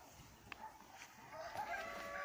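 Chickens in a henhouse give soft, scattered clucks and a few short calls, faint and close, over a quiet room.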